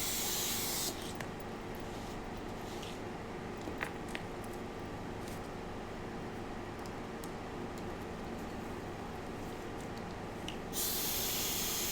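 Airbrush spraying white alcohol ink onto black Yupo paper, producing a steady, close, continuous hiss that runs almost the whole time with brief changes in intensity.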